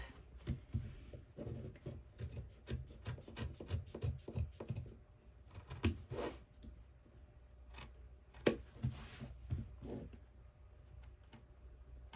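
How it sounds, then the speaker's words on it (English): Scissors make a few small snips into folded fabric while a bag is sewn, sharp close clicks scattered among soft rubbing and handling noises, with no voices. "I like to just fold it in half and make a little snip"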